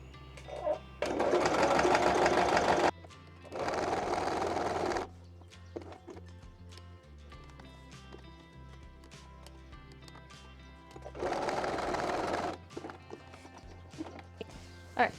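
A sewing machine top stitches a twice-folded apron edge in three sustained, loud runs of steady motor whirring, separated by quieter pauses with light handling clicks.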